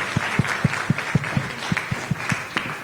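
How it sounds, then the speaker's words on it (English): Audience applause for a panel at a water policy summit on the Colorado River, a steady patter of clapping with distinct sharp claps standing out, moderately loud and continuing without talk. "let's give a big round of applause for this outstanding panel"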